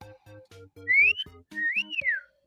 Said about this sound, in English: I got to wet my whistle before I can whistle like that.